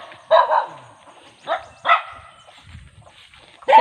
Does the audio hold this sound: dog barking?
yes